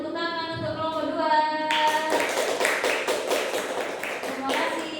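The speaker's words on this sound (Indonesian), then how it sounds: "beri tepuk tangan untuk kelompok 2" A classroom of seventh-grade students claps for a student group, a short spell of dense hand clapping that starts after a brief sung or sustained voice and carries on at close range with voices mixed in.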